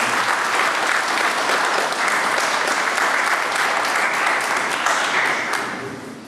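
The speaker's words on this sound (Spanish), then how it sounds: "quisiera que le brindemos nuevamente un fuerte aplauso a la doctora Ana Salles del Castillo" An audience at a lecture on criminal appeals gives a sustained round of applause for a speaker, dense and even clapping that fades at the end.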